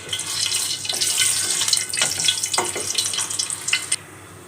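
Opened green cardamom pods sauté in hot desi ghee in a pan, a light crackling sizzle with scattered pops and stirring scrapes up close, cutting off near the end.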